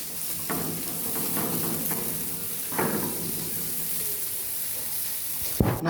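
Lemon butter sauce with black pepper and parsley sizzling in a pan as it is stirred, a steady frying hiss with a few soft spoon scrapes and a sharp clatter near the end.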